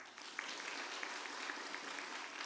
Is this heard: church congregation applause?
yes